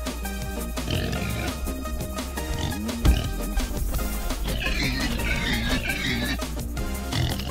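King Pig, a boss in the video game Turnip Boy Commits Tax Evasion, lets out repeated grunting oinks over busy game music and battle effects, loud and close.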